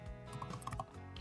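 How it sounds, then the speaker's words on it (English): Fingers tap quickly on a computer keyboard while entering a git command, a brief run of close, crisp keystrokes with no voice. "I'll type git config"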